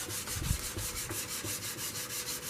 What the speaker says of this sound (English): hoping today to finish the 220 grit sandpaper, sanding